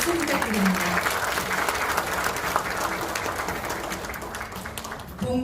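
An audience applauds a guest introduction at a Korean commemorative launch ceremony, a steady dense clapping that holds for several seconds before tapering, with a voice speaking over it.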